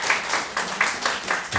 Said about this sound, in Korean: 우리 옆에 계신 어르신들을 위해서 우리 박수로 한번 격려해 드리겠습니다